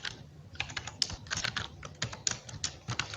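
Fingers clatter over a computer keyboard while code for a React navbar component is typed, irregular bursts of close, crisp keystrokes with short pauses between them.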